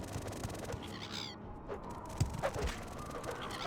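Bird calls in the game Morrowind: several short chirping cries at moderate distance, scattered over a steady ambient game background with no talking.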